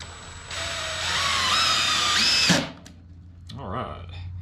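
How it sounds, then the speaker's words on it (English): A power drill with a star bit drives decking screws while building steps for a bath house, a loud steady motor whine rising in pitch for about two seconds, then stopping, with a short burst and brief talk afterward. "Put the star bit back in because I want to use some decking screws."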